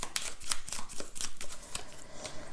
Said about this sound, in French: je prendrai une carte ici